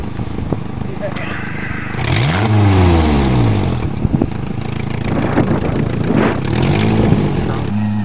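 A Nissan 200SX engine revs hard on a farm for a reverse car jump, rising and falling in loud sweeping bursts with voices talking over it.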